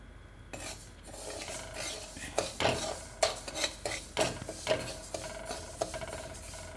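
Ragi (finger millet) and other grains crackle and splutter while dry-roasting in a hot pan over a high flame, with scattered pops and scraping stirs, moderately quiet and continuous, no talking.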